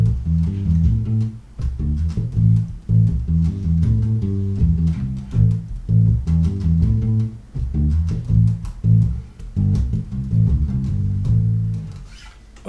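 A bass guitar groove built on the minor pentatonic scale repeats steadily, plucked low notes and muted ghost notes in a looping rhythmic pattern, solo and close.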